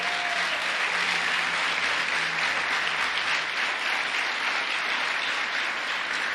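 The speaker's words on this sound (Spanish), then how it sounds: "Bríndale fuerte el aplauso al Señor" Church congregation at a Sunday service applauds in praise, a steady wash of many hands clapping at moderate distance, fairly even throughout.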